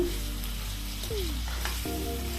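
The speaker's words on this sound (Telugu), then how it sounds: "అల్లం వెల్లుల్లిపాయ పేస్ట్ ఫ్రై అయ్యే వరకు ఫ్రై చేసుకుందాం" Ginger garlic paste frying in a pan on a medium flame for chicken lababdar, a steady close sizzle and crackle with a low hum beneath and no talking.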